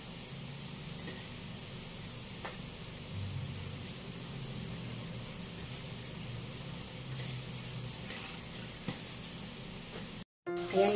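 Mushrooms in oyster sauce with crab meat stir-fry in a pan, giving a steady, even sizzling hiss throughout with no talking, cut briefly by a short silence near the end.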